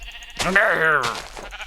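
Sheep bleat in the Minecraft video game, a single wavering, drawn-out bleat lasting about a second, close and fairly loud over quiet game background.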